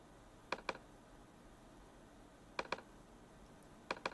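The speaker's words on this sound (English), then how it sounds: "That's a little clicking you hear." Mouse clicks from ScreenFlow screen recording software's standard click sound, heard as three quick pairs of sharp, crisp clicks spaced apart over a quiet background hiss.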